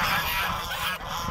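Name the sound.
geese honking while two geese fight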